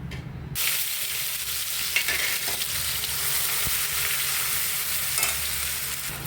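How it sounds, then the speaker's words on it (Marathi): Ground masala sautéing in hot oil in a pan for a spicy jackfruit curry, giving a steady, close, continuous sizzle that runs the whole stretch with no talking. "आता याला आपण थोडं परतून घेऊ"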